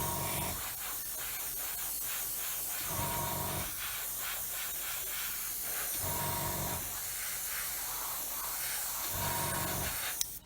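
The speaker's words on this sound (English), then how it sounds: "While I blow it back with the airbrush, you watch." Airbrush blowing air across a freshly painted 1/32 scale model Humber armoured car, a continuous hiss broken by several short bursts and pauses, close and steady throughout.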